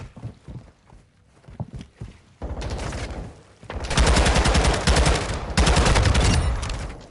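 Gunfire in the video game Call of Duty Modern Warfare 2, a few scattered shots and footsteps, then long loud bursts of rapid automatic fire close by.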